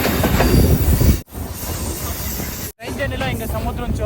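A train runs along the seaside line into Colombo, Sri Lanka, with loud rumbling wheels, rattling carriages and squealing metal, broken by two brief cuts, while voices carry faintly under the clatter.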